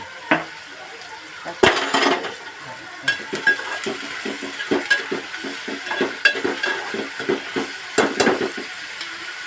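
Onion sizzles in oil in a pan as it cooks for Maharashtrian egg bhaji. A steady fry hiss runs throughout, broken by frequent clattering stirs of a spoon against the pan.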